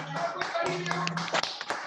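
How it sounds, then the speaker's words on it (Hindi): Students in a spoken English class clap for a classmate, a brief burst of close, dense handclaps with a few sharper taps, mixed with a voice talking over it. "सबको ताली बजाओ।"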